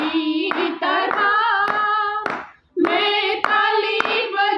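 Steady hand claps at a women's ministry worship meeting, roughly one every half second, keep time with a loud sung Hindi worship song, with a brief lull in the singing partway through.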